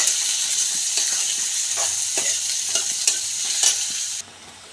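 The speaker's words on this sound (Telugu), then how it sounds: "ఇవి నూనెలో బాగా మగ్గాలి ఎర్రగా అయ్యే వరకు మగ్గాలి" Eggplant pieces and crushed garlic fry in oil in a pan with turmeric for a simple eggplant fry. A close, steady sizzle carries light stirring taps throughout, then quiets suddenly near the end.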